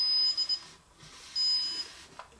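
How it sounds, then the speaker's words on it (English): A ProSensor 710+ stud finder emits high-pitched beeps, a couple of short bursts and longer tones, fairly quiet against faint background hiss. "It's beeping like crazy."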